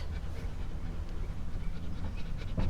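A dog pants steadily in hot Texas weather, quick rhythmic breaths close by with a faint whimper, no talking.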